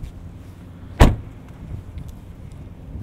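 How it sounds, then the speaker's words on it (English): The hood of a 2019 Volvo S90 T5 pops open with a single sharp thud, close and brief, against a quiet background hum. "let's pop the hood of this thing"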